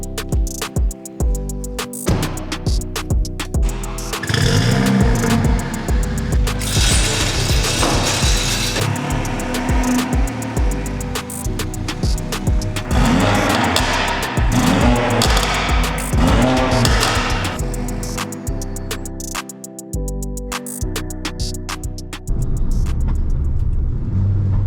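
Stage 3 hybrid turbo Mercedes A45 accelerating hard on the road, loud engine revving and rumbling through repeated gear pulls, heard from inside the car.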